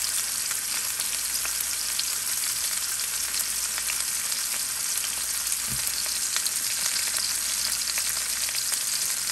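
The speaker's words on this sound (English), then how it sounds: "I'm going to sear it for about 30 seconds on each side before I turn the heat up." Steak sears in hot oil in a pan with a steady, loud, close sizzle that runs unbroken for the whole stretch, with no one talking.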